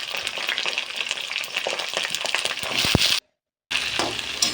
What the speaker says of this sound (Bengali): একটু ভালো করে ভাজা হয়ে যাক।